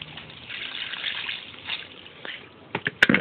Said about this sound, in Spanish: ponemos el agua que vamos a reutilizar